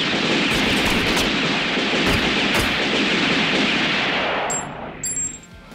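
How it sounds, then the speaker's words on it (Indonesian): Sustained automatic gunfire in an anime scene, as police officers open fire in a dense, unbroken barrage that holds steady and loud, then cuts off abruptly near the end, leaving a brief faint tail. "dia malah dilempari dengan sejumlah peluru"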